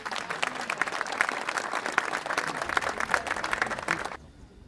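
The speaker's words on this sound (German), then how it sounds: "Jetzt dürft ihr nochmal klatschen." Audience applause at a classic car rally event, a dense steady wash of many hands clapping for about four seconds before cutting off abruptly into quiet room tone.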